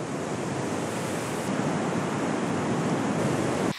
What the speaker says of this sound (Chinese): 潮头翻卷着浪花抵达了盐官